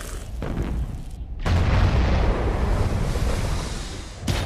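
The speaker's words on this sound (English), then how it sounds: "The explosion is as much as you'd expect in terms of a nuclear blast" A nuclear bomb detonation in a film scene: a deep, loud roaring blast that surges after a brief silence and sustains as a heavy, rumbling wall of noise for several seconds, with another burst at the end.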